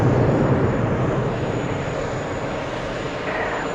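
A Lufthansa airliner at New York's JFK airport gives off a steady, loud engine roar and broad rumble that holds evenly throughout, with no voices.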